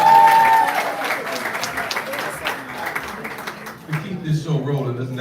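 An audience claps and cheers loudly for a spoken word artist at a live show, the dense applause fading after a few seconds as a voice begins talking.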